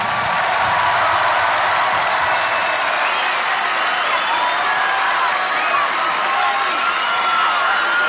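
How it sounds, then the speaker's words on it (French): A packed hall crowd at a live rap concert in Marseille applauds and cheers continuously, a loud, even roar of clapping with whistles and shouts running throughout. "Et applaudissez-vous cet été."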